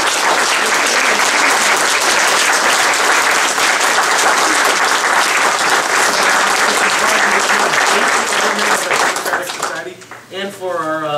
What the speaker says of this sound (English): round of applause is...